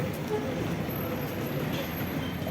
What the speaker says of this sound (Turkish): Evet, tramvay da geliyor.